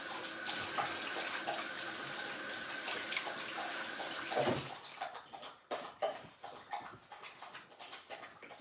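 Tap water runs steadily into a sink while hands are rinsed of dust after dog-stand finishing work, then stops, leaving scattered splashes and drips close by.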